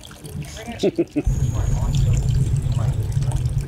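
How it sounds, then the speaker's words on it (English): Water poured in a steady, rushing stream into a pizza dough mix at an outdoor Burning Man camp, starting after a moment of speech and running on loudly to the end. "Seven and a half cups of water."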